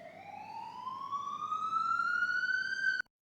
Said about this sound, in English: Oh, you hear the police siren?